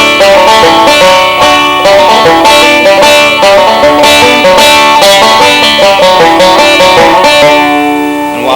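Bright plucked banjo notes ring out in a steady, busy stream, with paired strings sounding together and quick hammered-on notes, loud and close, no talking.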